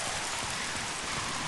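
Steady rain falls in the video game Mafia, a dense, even patter and hiss with no pauses or voices.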